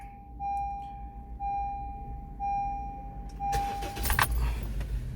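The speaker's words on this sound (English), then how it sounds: "I start the car." A car sounds a repeated dashboard warning chime in regular pulses, then its engine cranks and catches with a burst of noise, settling into a close idle.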